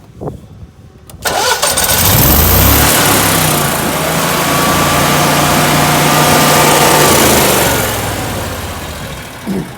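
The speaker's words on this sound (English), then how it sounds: "So generator runs, it'll fire right up." A standby generator engine cranks briefly after a quiet start, then fires and roars up loud and close, settling into a steady running drone for several seconds before easing off at the end.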